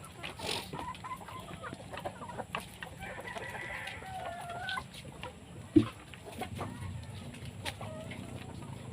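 Purebred hens and a single rooster cluck and call around a farmyard in the late afternoon, scattered clucks and squawks near and far with one sharper outburst midway.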